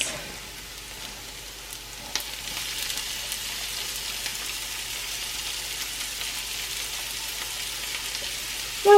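Onions and peppers frying in a pan for stuffed mushrooms, a steady broadband sizzle that holds evenly throughout at close range, with faint clinks and a sharper knock right at the end.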